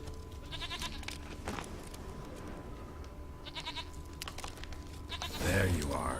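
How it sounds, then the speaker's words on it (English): A goat in The Witcher video game bleats several times in short wavering calls, set against ambient game background sound, with a louder rustling burst near the end. "Here, goat."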